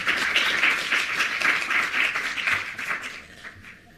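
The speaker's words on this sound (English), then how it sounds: "We can encourage you and give a clap of hands." A conference audience claps, a dense burst of applause that begins loud and fades over a few seconds.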